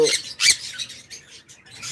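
Pet birds on a bird farm, including a blue pair, give sharp, close squawks: two loud bursts at the start, then softer scattered calls.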